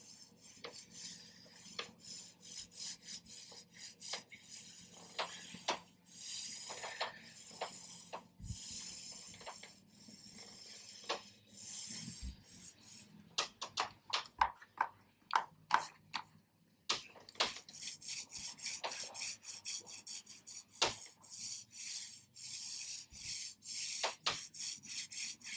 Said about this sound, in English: when you're rolling into paint, just take it about an inch or two into the paint that you have already put on